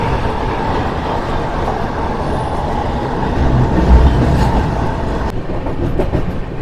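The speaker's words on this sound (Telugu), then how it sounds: "గూడ్స్తో క్రాసింగ్ మనకి చూడండి" An express train passing a goods train on the Puri to Ahmedabad route, a loud continuous rumble with faint rhythmic wheel clatter, swelling slightly midway before a sharp click near the end.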